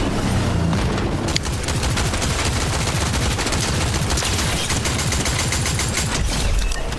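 Rapid, sustained gunfire from the video game Fortnite, dense overlapping bursts and shots cracking continuously at high volume with no talking.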